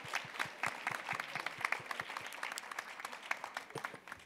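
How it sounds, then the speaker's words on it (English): An audience at a women political leaders' global summit applauds: dense, steady clapping from a sizeable crowd at moderate distance, sustained evenly without pause. "Give them applause"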